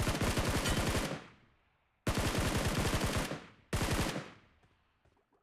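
Automatic gunfire in the BGMI battle royale game. It comes as three rapid bursts that each fade into a decaying echo, fairly quiet overall with no voices.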